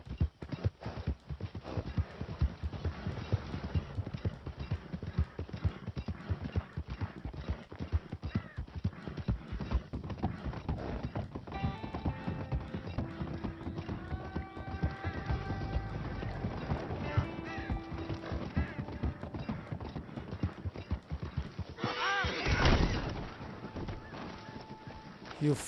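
Galloping horse hooves from the video game Red Dead Redemption 2 keep up a dense, steady clip-clop for the whole stretch, joined midway by brief tonal animal calls and a louder rushing burst near the end, with no talk.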